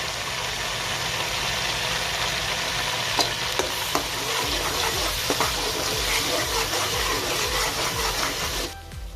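Garlic ginger paste frying in a pan with browned onions for chana pulao, a steady close sizzle with a few scraping stirs, running loud and even before cutting off near the end, no talking.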